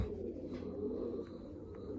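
Large pigeons in a loft give soft, continuous cooing at moderate distance, a low steady murmur with no speech over it.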